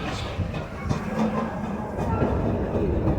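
A park train on the Serengeti Railway at Busch Gardens rolls steadily along, with a continuous rumble and rhythmic clickety-clack of wheels on track, close and fairly loud with no talk.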